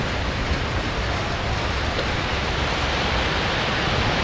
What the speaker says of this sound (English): It's totally flat and then all of a sudden there's a giant wave.